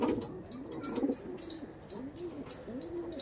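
Pulsar-breed pigeons coo in a steady series of soft, rounded, rising-and-falling calls, close by and repeating about every half second, with faint chirps and ambient noise behind them.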